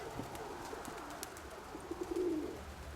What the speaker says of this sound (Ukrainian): Я вирішив вам показати цього голуба поближче.